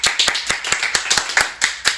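Sharp, close handclaps during a family game challenge at home, about a dozen distinct claps in a quick, slightly uneven rhythm, loud and alone.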